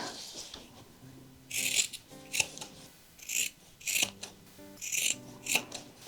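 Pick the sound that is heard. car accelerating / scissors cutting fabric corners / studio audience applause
scissors cutting fabric corners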